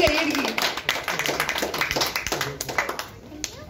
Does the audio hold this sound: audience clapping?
yes